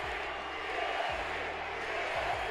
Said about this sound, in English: As the crowd chants EST for Bianca Belair.